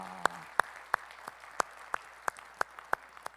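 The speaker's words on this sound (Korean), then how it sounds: "우리 찬양을 받으신 주님께 영광의 박수 올리겠습니다." A church congregation claps at a Sunday worship service in a slow, steady rhythm of sharp, evenly spaced claps, fairly close, with a quiet room behind them.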